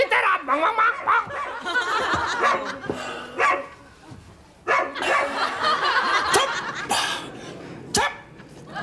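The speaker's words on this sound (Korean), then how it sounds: "온 동네 강아지들 멍멍." Neighborhood dogs bark in scattered bursts, several sharp barks at mid distance, mixed with laughter and chatter.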